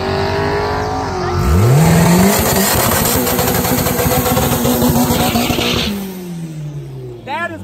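A Honda NSX revs hard at a drag race. The engine climbs sharply in pitch, then holds a loud, rough, buzzing roar before dropping away, and voices talk over it.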